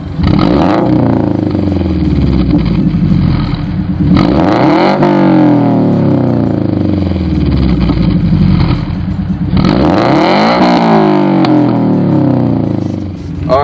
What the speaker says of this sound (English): you can hear what it sounds like with the header and the Borla unequal length header and the quad J2 quad back exhaust